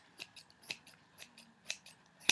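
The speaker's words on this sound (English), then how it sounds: "I'm gonna want to shape it down with my scissors like that" Scissors snip steadily while trimming a fursuit head into the shape of a dog muzzle. About half a dozen quiet, crisp cuts come in an even rhythm, close by, with no speech.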